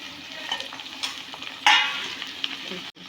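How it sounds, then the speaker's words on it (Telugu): Fenugreek (menthi) leaves fry in a hot pan as they are stirred, giving a steady close sizzle with brief louder bursts and scraping. "ఆకు ఇది మంచిగా ఫ్రై కావాలి"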